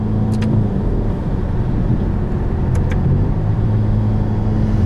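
Engine of a 2021 Ferrari Roma sports car heard from inside while driving, a steady loud low drone and road rumble that stays even throughout, with no talking.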